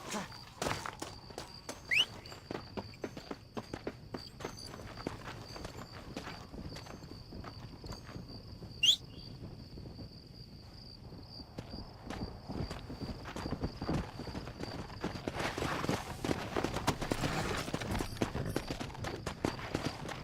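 Horse hooves clip-clopping in the video game Red Dead Redemption, a steady rhythmic trot of hoofbeats close by, growing busier toward the end, with a couple of brief high whinny-like calls and no talk.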